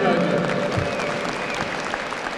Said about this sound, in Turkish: Koca bir alkış rica ediyorum.